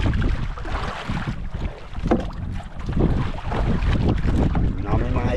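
Big sea waves surging and crashing around a small fishing boat at dusk, a continuous loud roar of water and wind buffeting the microphone, with brief voices in the background.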